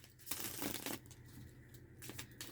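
Tarot cards are shuffled in two quick riffling bursts close by, with a short pause between them, against a quiet room background.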